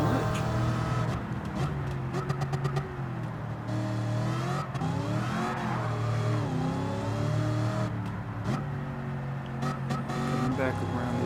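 A 1969 Chevrolet Camaro Z28 in Gran Turismo 7 revs steadily, its engine tone rising and falling as the car runs downhill and takes turns, a loud continuous drone with someone talking over it throughout.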